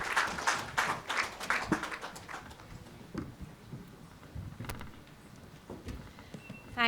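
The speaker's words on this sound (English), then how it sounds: "Can we have another round of applause, please?" Applause from a seminar audience on vocational education, with scattered claps early that thin out into sparse, irregular taps and room noise, moderately quiet.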